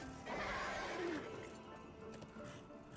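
A horse in the video game Darksiders 2 gives a clear whinny that rises and falls, then its hooves clip-clop softly, with a faint crash in the background.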